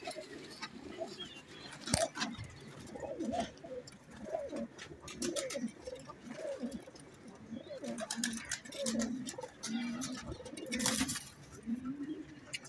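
Pigeons coo softly in repeated low, throaty phrases, with occasional faint flutters and small taps in the background.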